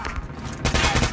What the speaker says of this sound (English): Did you have a machine gun? You did. Indeed, a machine gun.